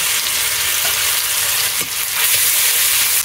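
Garlic paste fries in hot oil on top of browned onions for a home-style desi chicken curry, a loud, dense, continuous sizzle close by with occasional stirring scrapes.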